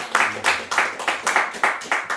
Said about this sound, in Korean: 우리 어머니께 감사의 박수 한번 쳐주실래요?